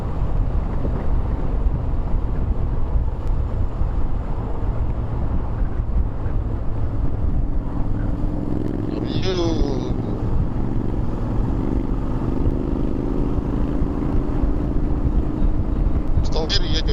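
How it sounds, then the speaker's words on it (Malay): Strong wind buffets the microphone in a windy area of Nakhon Sawan, a loud continuous low roar throughout, with a brief higher chirping sound near the middle and again at the end. "Tapi kawasan ni memang ada angin kuat lah."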